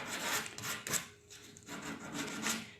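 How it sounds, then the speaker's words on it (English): Sandpaper rubs over an antique wooden dresser in close, rhythmic strokes, each rasping pass broken by short pauses. "try to be as detailed as you can be on your sanding"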